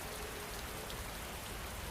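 Steady rain falls in a dense, even hiss of drops with no breaks or variation, moderately quiet and uninterrupted, with no voices present.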